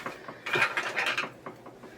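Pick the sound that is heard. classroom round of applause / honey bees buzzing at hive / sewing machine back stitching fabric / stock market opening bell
sewing machine back stitching fabric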